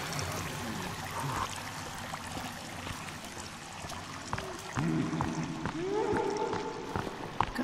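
Splashing steps through water in the survival game Sons of the Forest, a steady wet churning under ambient game sound with some low tonal music, moderately faint and without talk.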